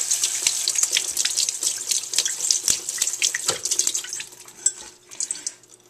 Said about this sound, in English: So the noodles have cooled off, and we'll just kind of give them one more rinse.